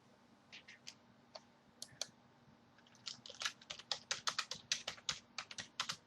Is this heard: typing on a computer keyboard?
yes